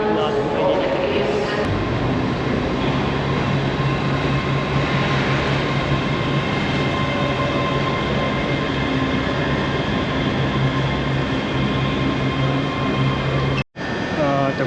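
A train pulling into Edinburgh Waverley station, a steady loud rumble with hums and faint squeals running the whole time, heard from the platform, with a voice talking over it.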